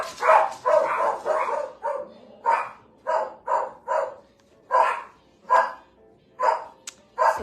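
Indoor house dog barking repeatedly: about a dozen loud, close barks in uneven bursts, some quick pairs and some spaced with short pauses, with no talking.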